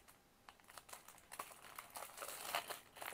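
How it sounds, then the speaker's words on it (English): A plastic bag is cut open with scissors, giving a faint run of quiet crinkling and snipping ticks, close by and with no talking. "This is how you get smarter than the bag. You cut it open."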